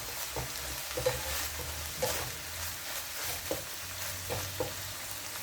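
Pork picadillo with tomato sauce frying in a pan, a continuous close sizzle broken by regular scraping strokes from stirring, with no one speaking.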